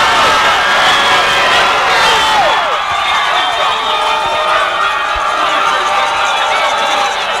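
A large crowd at a high school semi-final football game roars and cheers loudly after a touchdown, the noise swelling at first and then holding as a sustained wall of sound.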